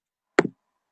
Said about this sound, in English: No, something fell on the keyboard.